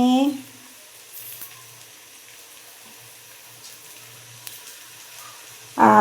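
Taro stolons fry in a pan with a steady, soft hissing sizzle that runs unbroken at moderate loudness. A voice speaks briefly at the start and again at the end.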